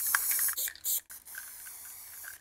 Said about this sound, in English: I'm gonna create a bit extra visual texture with spray paint